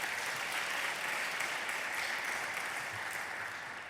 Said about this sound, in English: Round of applause for them all.